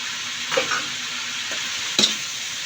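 Vegetables for pakbet fry in a pan with a steady hiss, while a utensil scrapes and clacks against the metal twice as they are stirred.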